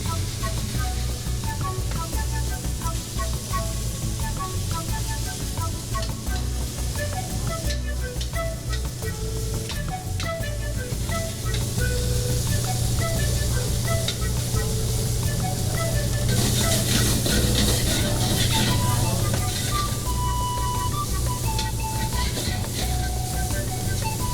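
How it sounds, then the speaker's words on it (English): Beef searing in a wok over high heat at a street-food stir-fry stall, a steady loud sizzle and hiss that runs the whole time under busy clattering and background music. "Beef seared in a wok over high heat."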